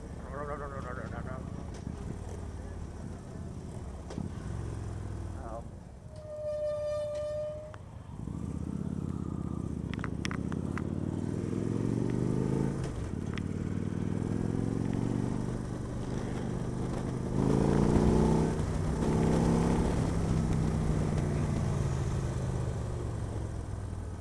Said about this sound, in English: The exhaust is nice on this. It's got that lopey sound.